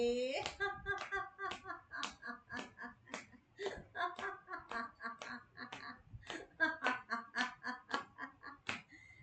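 A group claps rhythmically in quick, even bursts during a morning laughter-yoga session, with voices laughing and calling out over the clapping throughout.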